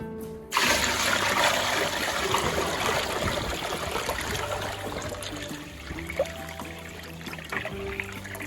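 Maple sap runs into the warming tray of a wood-fired evaporator, a steady close trickling pour that continues throughout.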